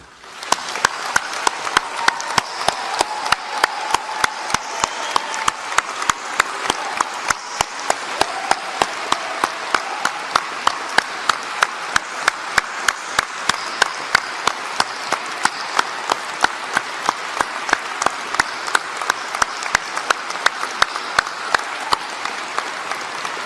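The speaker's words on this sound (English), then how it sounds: "I think that merits an enormous round of applause" Sustained, steady applause from a large audience at a doctoral graduation ceremony, a dense wash of many hands clapping that continues evenly for over twenty seconds with no talk over it.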